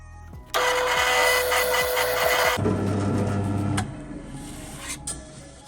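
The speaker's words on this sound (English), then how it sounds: "I just prefer to use the drill press with Forstner bits." A drill press whirs up and its Forstner bit bites into plywood with a loud grinding rasp, then the motor winds down as the noise fades.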